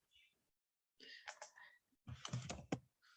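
Quick bursts of keystrokes on a computer keyboard while entering text into a spreadsheet cell, close and soft, with short silent gaps and quiet speech between the typing runs.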